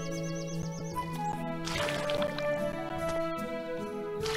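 Crops are watered in the farming adventure game Kitaria Fables: soft splashing and dripping liquid sounds play over bright game music, with a chiming melodic pattern near the start.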